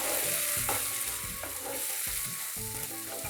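Ground tomato puree sizzling in a hot pan of masala, a dense steady frying crackle with repeated stirring bursts, close and loud.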